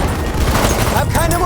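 In a Battlefield 1 Conquest match in the Argonne forest, a grenade explosion sounds as a loud, dense rumble of blasts and gunfire, with soldiers' voices shouting over the din.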